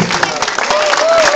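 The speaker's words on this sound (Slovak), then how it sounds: "tak ním patrí veľký potlesk" Audience applause at an award ceremony honoring sponsors, a short burst of dense clapping from a crowd mixed with overlapping voices.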